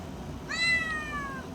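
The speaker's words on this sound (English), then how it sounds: "There's a cat in there, you just can't tell." A shelter cat gives a single clear meow with a falling pitch, near and alone against a faint background hum.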